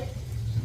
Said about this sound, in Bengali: মাছ ভাজাটা আগে মাছ বসাই তারপরে